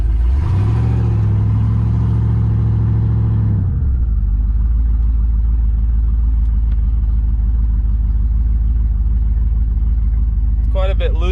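GMC truck with a new stall converter, engine revving loudly before dropping to a deep, steady rumble as it drives; occasional voice-like sounds near the end.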